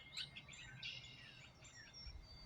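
Small birds near a backyard bird feeder give quick, high chirps and tweets in scattered bursts, fairly faint over a soft low background rumble.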